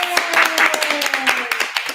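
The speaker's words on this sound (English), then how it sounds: "you guys deserve a round of applause" A crowd at a K-pop event claps in quick, scattered bursts of applause, with a voice speaking over the clapping throughout.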